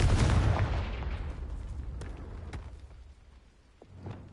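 A Confringo fire spell bursts in Hogwarts Legacy with a loud, booming blast that fades over a few seconds, followed by faint scattered pops and a small thud near the end.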